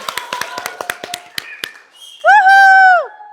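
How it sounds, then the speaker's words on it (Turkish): Scattered hand claps from a group of children and adults at a school theatre event, a few quick uneven claps up close, followed by a short high voiced call. "o zaman bir kendimizi alkışlayalım"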